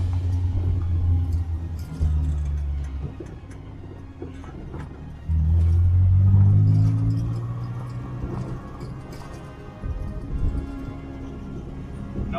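A small Crosley truck drives along with its engine rumbling low, the drone rising and falling as it changes speed, with road noise and a few clicks and rattles.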